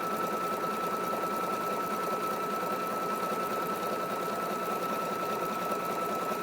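A Singer Futura sewing and embroidery machine stitches at a steady, fast whirring rhythm, running close and continuous with no talking.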